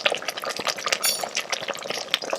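A pot of Trinidadian callaloo thick with meat being stirred, with wet, sloppy scraping and clinks of a spoon against the pot, close and fairly steady throughout with no talking.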